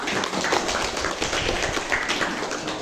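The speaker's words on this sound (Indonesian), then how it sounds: "berikan aplaus untuk kita semua" A classroom group applauds together, a dense, steady patter of many hands clapping close by for a few seconds with no talking.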